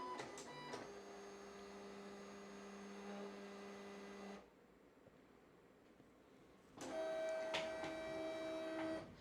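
A Silhouette cutting machine whirs with a steady motor tone as it scores a line, pauses in near silence, then starts up again loudly, with no talking.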